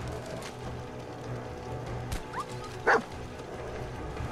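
Dog barks and yips from the Dogmeat companion in Fallout 4 VR, a couple of short bursts midway over a steady game ambience.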